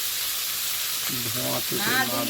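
Cut potatoes frying in a wok while cooking fish curry: a steady faint hiss, then louder sizzling and stirring scrapes as the pieces are moved around in the hot oil.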